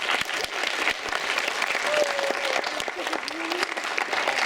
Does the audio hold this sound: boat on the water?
no